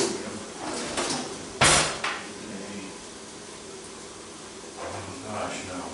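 A pan of browned meat is handled to drain off grease, with a sharp metal clank followed by a few softer scrapes and knocks, while a person talks quietly throughout.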